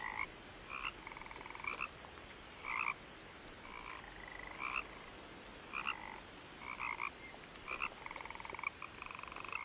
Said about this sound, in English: You can hear all the frogs and the crickets.